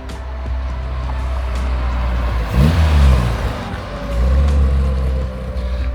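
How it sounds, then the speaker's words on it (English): A Toyota Celica Supra Mk1 pulls away under acceleration, its engine swelling to a rev and then settling again as it drives off, a continuous mid-pitched drone that stays fairly close. "There goes the Celica."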